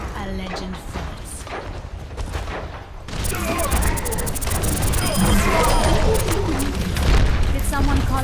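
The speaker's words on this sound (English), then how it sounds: "Let's hear those guns." Gunfire in a busy Overwatch match: dense, layered shots and booms build into a loud, continuous barrage, with voices speaking over the fight.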